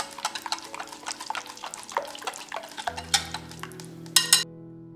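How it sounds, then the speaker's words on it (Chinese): Mooncake batter being stirred with vegetable oil in a bowl, a steady run of close, rhythmic wet scraping and clinking strokes, ending in a few louder knocks before it stops. "倒入植物油，继续搅拌直到油水不分离"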